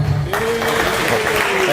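Applause from a conference audience at a blockchain event in Los Angeles, starting after a brief moment and holding as a steady, dense wash of clapping with a faint tone running underneath.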